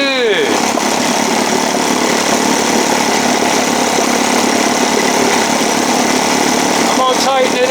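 An old Evinrude 7.5 outboard motor runs at a steady idle, loud and close, with a constant rattling drone that holds unbroken for the whole stretch.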